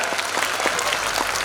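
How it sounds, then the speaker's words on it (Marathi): Loud, dense applause from a crowd at an abacus academy award function, a continuous burst of many hands clapping close by with no pauses. "सगळ्या जोराने टाळ्या स्वतःसाठी जोराने."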